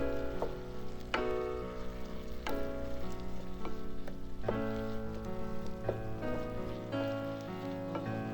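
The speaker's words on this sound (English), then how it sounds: "Then add the cabbage and celery in. Stir to mix everything evenly." Cabbage and celery stir-fried for Chinese noodles, heard as a soft, steady sizzle broken by repeated ringing metallic clinks of a spatula against the wok, fairly close but moderate in level.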